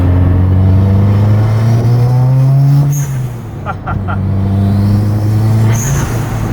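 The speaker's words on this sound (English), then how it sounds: "I haven't heard the blow-off valve in so long." A turbocharged Subaru WRX engine revs hard, then lifts off with a sharp hissing blow-off valve whoosh; the pattern repeats a few seconds later.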